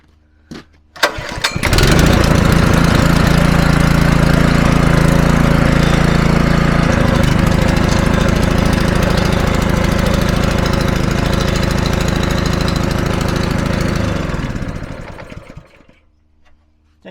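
A repaired small pressure washer engine, started with a shot of brake cleaner, fires and runs loudly and steadily close by, with a rough, even drone for about thirteen seconds before it cuts out and winds down.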